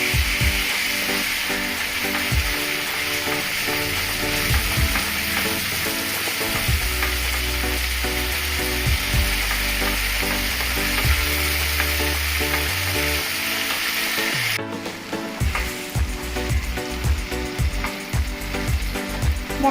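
Spiced masala with beaten yogurt sizzles steadily in a pan over medium heat for katla kaliya, with repeated scraping and stirring strokes of a spatula knocking through the frying hiss.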